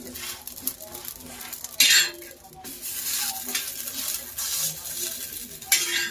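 Pav bread, split open, heats in butter in a pan for homemade pav bhaji: a steady soft sizzle with scraping and clinking of utensils against the pan, plus a few louder bursts.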